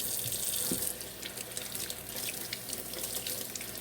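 Tap water runs steadily into a kitchen sink as vegetables are rinsed clean for homemade chicken soup, a soft continuous hiss and splash with a few brief knocks near the start, fairly quiet and close.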